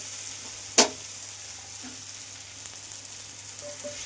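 Soybean masala sizzles quietly in a pan, with one sharp, loud splash-hiss as hot water is poured in, followed by a low, steady simmering sizzle.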